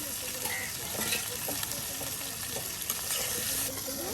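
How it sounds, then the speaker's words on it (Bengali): Fish and potatoes fry in a pan over an outdoor cooking fire, a dense continuous sizzle with intermittent stirring clinks, close and fairly loud throughout. "এই যে মাছ ভাজতেছেন আলু ভাজতেছেন"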